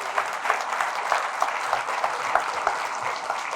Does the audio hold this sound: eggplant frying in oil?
no